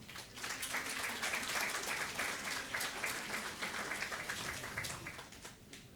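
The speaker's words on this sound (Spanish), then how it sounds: "Con un fuerte aplauso." Applause from a congregation at a church New Year service, steady and continuous for several seconds, dense and moderately loud, tapering slightly at the end.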